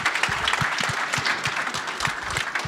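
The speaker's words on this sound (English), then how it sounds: "Give him a round of applause." An audience at a live pitch event breaks into applause, a dense, loud wash of clapping that carries on steadily for a few seconds.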